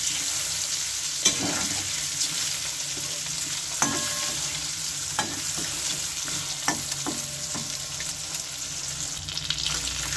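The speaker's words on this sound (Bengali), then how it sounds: "এইভাবে আমি সবগুলি ডিম ভেজে নেব। এই ডিমগুলি খুব হালকা করে ভেজে নিতে হবে।" Eggs fry lightly in a pan for a village-style egg dish, giving a continuous soft sizzle with scattered clicks and scrapes of stirring, close by and with no talking.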